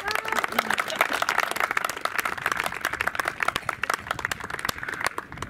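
An indoor crowd claps steadily for a municipal councillor at a civic gathering, a dense, even patter of many hands lasting several seconds with murmuring voices mixed in.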